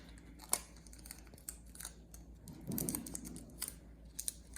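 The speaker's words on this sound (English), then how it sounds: "I'm gonna put some tape on the back." Adhesive tape torn and pressed onto the back of a paper nature suncatcher, with quiet crinkles and short ripping and rustling sounds at close range, alone without talk.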